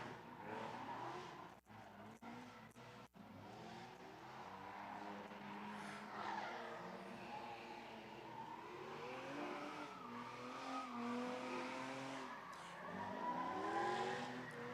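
A purple and black BMW drift project car squeals its tires through a long slide with the engine revving hard, the loud screech rising and falling at a drift event, no talk.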